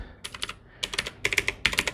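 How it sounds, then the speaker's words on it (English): Loud, clicky keystrokes on a budget gaming mechanical keyboard, typed in quick bursts of rapid clacks with short pauses between, close and alone with no talking. "that's definitely a louder, more clicky type sound"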